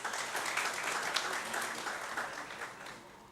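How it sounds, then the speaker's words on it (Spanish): An audience at a book launch ceremony in the Dominican Republic claps in steady, fairly faint applause heard from a distance, without speech over it. "Fuerte el aplauso."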